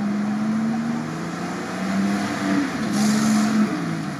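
A vehicle engine drones and revs steadily while driving through off-road mud during a trophy-raid event, with a continuous rising-and-falling engine hum and no talking.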